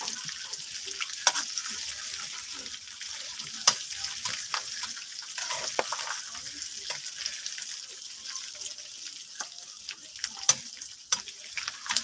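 Steady crackling sizzle of pork rinds frying in hot oil in a pan, with scattered pops and spits throughout, close up and moderately loud.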